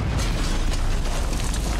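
Cannon fire in Red Dead Redemption 2 during a ship escape: a dense, loud roar of booming blasts and rumble fills the whole stretch with no pause.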